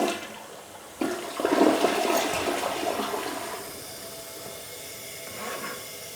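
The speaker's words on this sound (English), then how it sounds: "I'm just gonna go ahead and flush it." A toilet with a newly installed LUXE Bidet NEO 120 seat flushes nearby. A sudden loud rush of water swirls down and settles into a softer hiss as the tank begins to refill.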